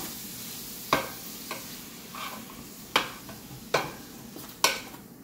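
Beef stew meat browns in a pot with a low, steady sizzle, broken by a handful of sharp wooden-spatula scrapes and knocks against the pot at irregular intervals.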